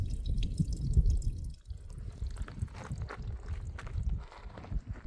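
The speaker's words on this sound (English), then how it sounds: "It is a steady, definite trickle." A steady trickle of water along a hiking trail in Montana, heard outdoors as irregular drips and gurgles mixed with low rumbling noise and scuffing, like footsteps, with no talking.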